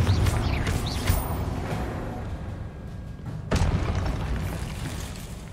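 Confringo spell blasts in the video game Hogwarts Legacy erupt as several heavy booms and bursts over a dense, continuous rumble of game sound, loud and close, with no voice over them.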